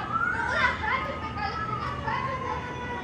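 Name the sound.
neighbor kid screaming outside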